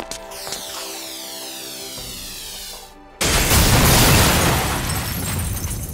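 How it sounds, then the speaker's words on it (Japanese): In a magic-battle scene from a visual novel game, a glowing bolt of magic light strikes a wall and explodes. A shimmering sweep of tones is cut off by a sudden loud, booming blast, followed by a sustained roaring rumble. "光は壁に被弾するなり爆発して、その衝撃で宗十郎を反対の壁に叩きつける。"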